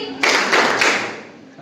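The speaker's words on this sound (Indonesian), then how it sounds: "Tepuk 3 kali." A classroom of students claps hands together in sharp group bursts, loud and close, the sound dense and ringing before fading into room reverberation.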